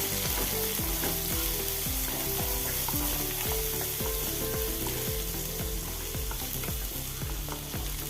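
Beans and green peas fry in a pan for vegetable fried rice, giving a constant loud sizzle while a spatula stirs and scrapes in a steady rhythm of repeated strokes, with no talking.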